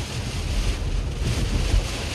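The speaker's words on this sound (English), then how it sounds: "It's pouring." Heavy rain pours onto a moving car with its sunroof open, giving a dense, loud, steady wash of noise mixed with wind and road rumble, no voices.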